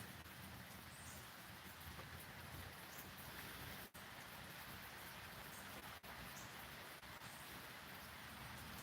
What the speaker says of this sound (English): it's 43 minutes of me out in the rain